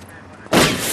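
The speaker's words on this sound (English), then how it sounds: "Who's still shooting?" A gunshot bursts out loud and close, a sudden blast that comes after a quiet half second and then rings and fades slowly.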